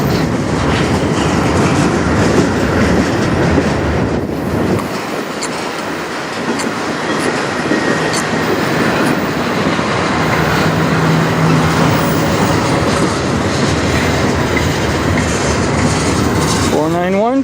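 CN freight train rolling past on the south track in Sarnia, Ontario: a loud, continuous rumble with rhythmic clickety-clack of wheels over rail joints and a brief squeal near the end, close by, with some talk mixed in.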